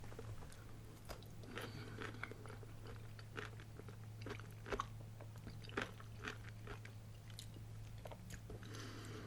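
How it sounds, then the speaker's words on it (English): Someone eats slightly spicy pickled pickles as part of a Moldovan meal: close, quiet crunching bites and wet chewing recur throughout over a low steady hum, with no talking. "These pickles actually have a little bit of heat to them."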